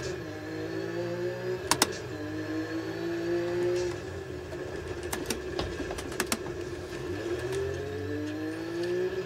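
A rally car in the WRC video game pulls away from a handbrake start, its engine droning and rising in pitch as it accelerates, with a few sharp clicks over the steady engine sound and no talking.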